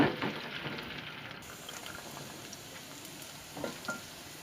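Chopped shallots sauté in a pan for a quick garlic curry, giving a steady soft sizzle and frying crackle with a few faint stirring scrapes, moderately near and with no talk.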